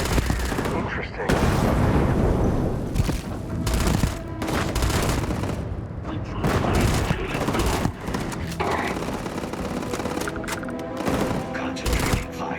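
Heavy gunfire in the video game Starfield: sustained bursts of rapid automatic shots and booms, loud and dense for several seconds at a time, with brief gaps between volleys.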